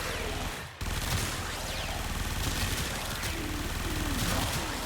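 Continuous Supra Vandal fire in Warframe, a dense unbroken stream of rapid shots filling the whole stretch after a brief gap near the start, loud and close, with game effects layered underneath.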